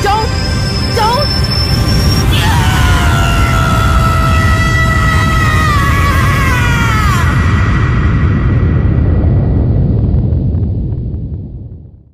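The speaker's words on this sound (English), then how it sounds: "We hear you screaming." A person screams loudly and continuously, a sustained, strained cry with wavering pitch that slides downward, heard alone for about twelve seconds before fading at the end.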